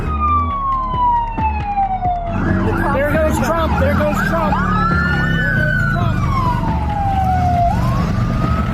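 Police car sirens wail loudly from a motorcade racing toward Butler Memorial Hospital in Butler, their tones sweeping up and down over a steady rumble of traffic and engines for the whole stretch, while people talk excitedly nearby.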